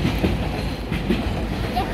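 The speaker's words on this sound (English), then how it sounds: "There's a train engine at the back." A steady, continuous rumble of an NS (Norfolk Southern) train rolling along the rails, with faint clacking, close and fairly loud throughout.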